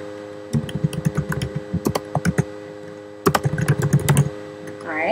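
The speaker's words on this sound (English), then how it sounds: "Now I'm going to type my class." Keys clack on a Mac computer keyboard while typing in Microsoft Word, in two quick bursts of close, crisp strokes with a short pause between them and no talking.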